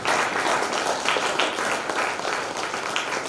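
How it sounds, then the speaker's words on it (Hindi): A crowd applauds steadily at a gathering in a meditation hall in Korba. The dense, continuous clapping stays loud and even throughout, with no voices over it. "जोरदार तालियां"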